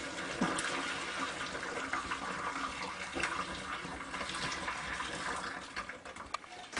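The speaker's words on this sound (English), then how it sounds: "now we're going to add the boiling water to finish the job. So we're just going to pour this in." Boiling water is poured from a container down a sluggish sink drain as a chaser after a non-toxic cleaning mix. It makes a steady, close, rushing, gurgling splash that lasts the whole stretch.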